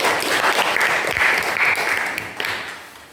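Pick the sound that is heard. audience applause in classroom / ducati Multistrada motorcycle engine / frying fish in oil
audience applause in classroom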